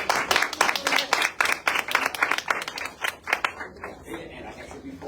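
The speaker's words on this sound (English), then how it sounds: "Big applause, big applause." An audience applauds a candidate being welcomed in, a dense patter of many hands clapping for about three seconds and then thinning out, with voices talking over it.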